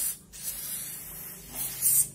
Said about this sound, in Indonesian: Ini tinggal semprotin aja ke semuanya.